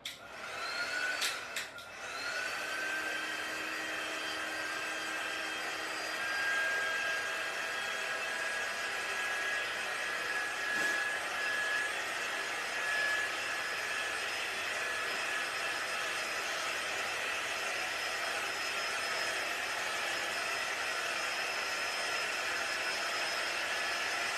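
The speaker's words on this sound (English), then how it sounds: "heating gadget, my heating tool and I'm going to quick dry this area" A handheld heat tool blowing hot air to quick-dry brown craft paper scroll art, giving a steady close whooshing hiss that runs unbroken and alone, with a brief thump near the start.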